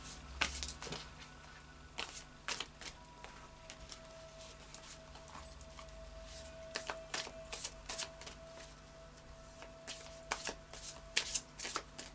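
Anna K Tarot cards are shuffled in quick, crisp bursts of riffling and flicking, close and fairly quiet, with short pauses between.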